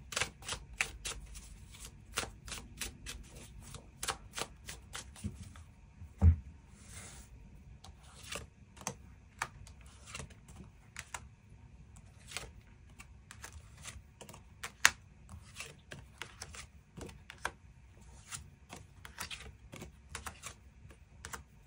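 Tarot cards are shuffled and drawn by hand in a quiet room, producing long runs of crisp, rapid clicks and flicks, with a brief thud and a few irregular pauses. No voices are heard.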